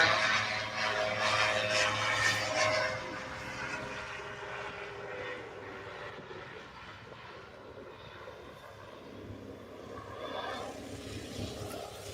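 Mooney propeller airplane arriving to land at the Oshkosh 2025 airshow, a steady engine drone that is strongest at first and then eases to a lower, distant hum.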